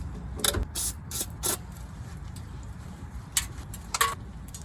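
A wrench or ratchet tightens a brake banjo fitting on a Jeep Cherokee XJ, giving a few short bursts of metallic clicking separated by pauses, close up over a low background rumble.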